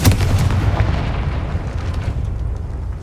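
A Confringo fire spell blasts in Hogwarts Legacy, a loud booming explosion that hits at once and rumbles away over a few seconds, with no talking.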